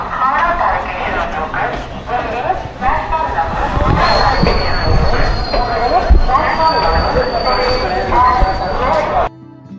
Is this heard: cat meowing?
no